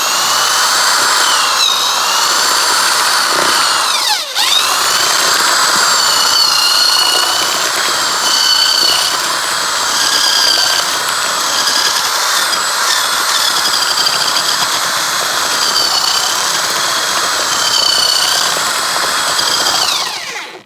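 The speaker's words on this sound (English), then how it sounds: "Got this new tool today, a little adapter, got on a drill for mixing" A power drill with a mixing paddle whines steadily and loudly for about twenty seconds, churning thick cement, its pitch wavering as the load shifts, with one brief dip.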